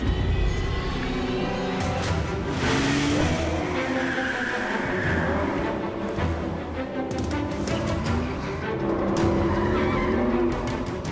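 An Aston Martin sports car drives hard, its engine roaring steadily while tires squeal and skid through turns, loud and close throughout with no talking.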